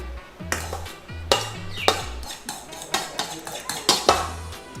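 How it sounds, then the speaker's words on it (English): Metal utensils clink and scrape against a bowl while couscous and grilled vegetable salad is tossed together, a series of close, sharp knocks and stirring scrapes in irregular rhythm with no talking. "Let's just mix this up again."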